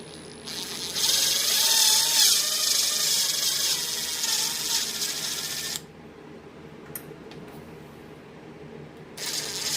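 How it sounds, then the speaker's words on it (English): Power drill boring holes through wire while building split feeds, a loud steady whirring grind for several seconds, then a quieter pause with a couple of small clicks before the drill starts again. "I don't know how many holes I might have to drill in this diagram wire to make it fit"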